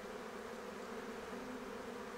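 A honeybee swarm settled on the ground buzzes in a dense, continuous drone, steady and close with no talk over it.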